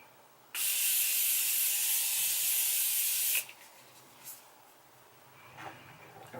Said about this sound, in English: I'm going to use that spray again.